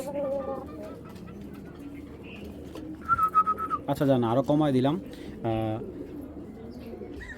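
Giribaz pigeons coo and whistle in short, wavering bursts from a cluster of birds, rising in the middle and then trailing off, while someone talks nearby.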